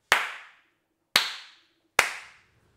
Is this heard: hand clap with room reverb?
yes